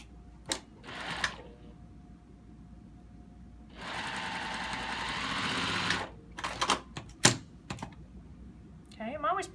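Sewing machine stitching fabric rectangles around three sides of a quilt block with partial seams, a steady two-second whir of stitching between short mechanical clicks and handling sounds, with a voice speaking around it.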